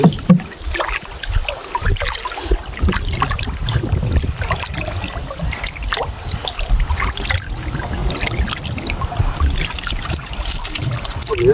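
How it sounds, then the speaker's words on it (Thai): Water flows and trickles steadily throughout, a close, continuous running sound with splashy bursts, set at a shrimp-trapping spot with crates being handled. "น้ำไหลเหมือนกันอยู่"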